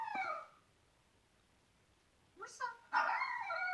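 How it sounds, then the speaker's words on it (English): Dog barks and yips play from a YouTube video on a device, coming in short bursts with a quiet gap between, faint and slightly tinny. "listening to dog sounds and the dog's watching that."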